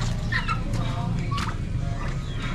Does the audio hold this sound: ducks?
yes